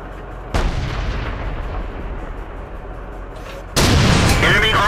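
Two heavy tank cannon shots in World of Tanks boom out, one near the start and a louder, closer blast around the four-second mark, each followed by a rumbling low tail over constant engine and battle noise.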